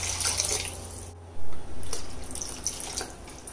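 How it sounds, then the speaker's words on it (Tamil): Water pours into a cooking pot of mushroom masala, a steady rushing splash with a brief louder gush partway through. "இப்போ இதுக்கு தேவையான தண்ணி சேர்த்துடலாம்."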